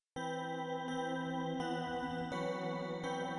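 A bell preset from the Eternal synth plugin plays sustained, harmonically rich tones with struck attacks repeating roughly every 0.7 seconds in a steady melodic pattern, ringing continuously at moderate volume with no voices.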